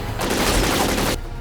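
Gunfire from the PlayStation Portable game Syphon Filter: Dark Mirror, heard as a loud, dense burst of rapid shots that lasts about a second and then cuts off, with no voices.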